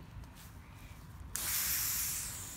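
Water from a garden hose sprays on suddenly partway through, a loud close hiss that continues steadily after a quieter stretch of low background rumble.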